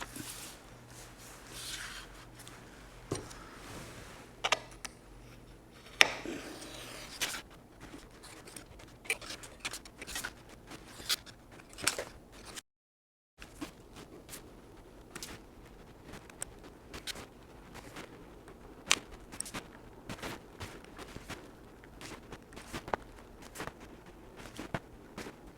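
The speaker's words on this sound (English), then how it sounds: "And with that, we've got all the windows cut out of this template." Scissors or a blade cut window shapes out of a paper template for a 1/100 scale Estes Saturn V model: quiet, scattered snips and rustles with a brief silent gap partway through.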